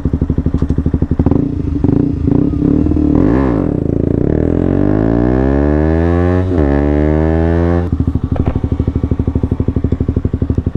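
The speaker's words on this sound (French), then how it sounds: "J'éteins la moto, je la redémarre" A motorcycle engine idles with a rapid loud thump, is switched off and winds down with a falling whine, then is restarted and settles back into a close, steady, throbbing idle.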